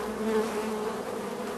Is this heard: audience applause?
no